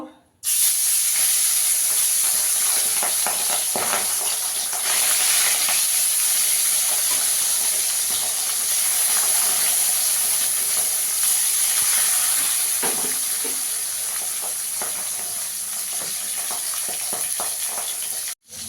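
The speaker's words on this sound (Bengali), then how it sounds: "এবার তেলটা আমার গরম হয়ে গেছে, মাছগুলো ভেজে নেব।" Papad fish fries in hot oil, producing a loud, unbroken hissing sizzle that holds steady for nearly twenty seconds before cutting off abruptly.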